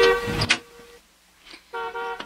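Car horn honking in a street setting: a loud harmonic blast, a brief gap with a faint tone, then a second sustained honk ending with a short tap.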